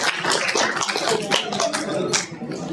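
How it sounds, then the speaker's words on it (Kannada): Audience applause at a prize distribution for sports and cultural activities, a dense burst of many hands clapping steadily for the full stretch, close and fairly loud, with voices faintly mixed in. "ಜೋರಾದ ಚಪ್ಪಾಳೆ ಬರಬೇಕು."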